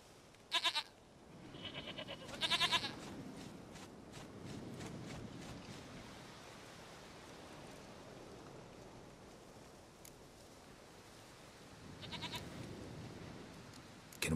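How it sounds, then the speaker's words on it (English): Goat bleats in The Witcher 3 video game: two short, fairly faint cries early on and another some seconds later, spread over a soft, steady outdoor ambience. "Goat of mine, dearest, sweetest goat."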